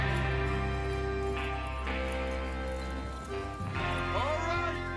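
Horses in Red Dead Redemption 2 clip-clop along at a steady gait beneath continuous music, with a short rising whinny-like sweep near the end.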